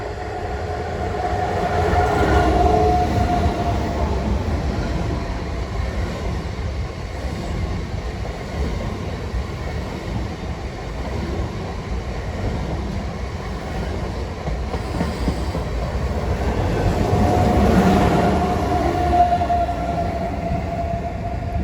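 A RENFE Series 730 Alvia high-speed train rumbles steadily past with a continuous roar and faint rail clatter, swelling slightly near the end, no voices.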